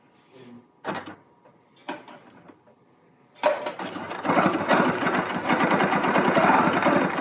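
A BERNINA Q Series sit-down sewing machine: a few short knocks and handling sounds, then a steady, close mechanical stitching whir that runs continuously to the end.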